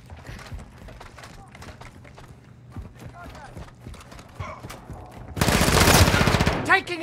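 Automatic gunfire erupts in Call of Duty: Modern Warfare II, preceded by clattering footsteps and movement, then a loud, dense burst of rapid shots near the end, with voices speaking.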